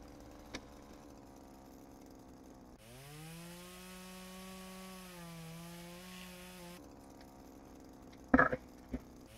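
Chainsaw cutting a big tree in the video game Flashing Lights, a steady droning engine whine that holds for about four seconds, then stops, followed by a few thuds.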